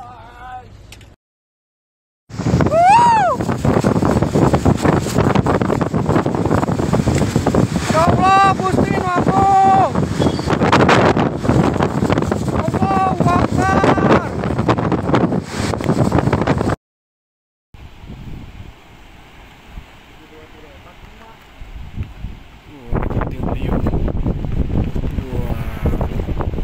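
Strong tornado winds roar across the microphone in Sumedang, Indonesia, a loud continuous buffeting broken by two brief silent cuts, with people shouting and talking throughout.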